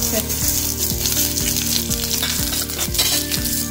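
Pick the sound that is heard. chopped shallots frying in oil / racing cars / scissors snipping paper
chopped shallots frying in oil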